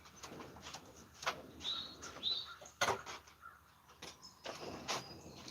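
Pigeons or doves coo at a lantern-style bird feeder outdoors, with soft repeated calls, a few sharper chirps and occasional rustles and bumps, fairly close and moderately loud.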